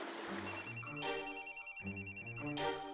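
A telephone rings indoors with a steady electronic ringtone, loud and continuous, repeating its tone pattern with no voices over it.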